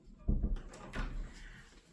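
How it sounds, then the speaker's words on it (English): An indoor door is pushed shut with a single soft thud and a faint rattle, followed by quiet room tone and a little movement. "And I'll shut the door for privacy."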